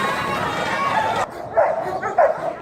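A dog gives a couple of sharp yelping barks close by, following a stretch of steady background noise that cuts off abruptly.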